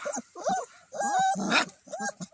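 Chow Chow, Rottweiler, Jack Russell and Kangal puppies give a close series of short, high whimpers and yips in quick bursts.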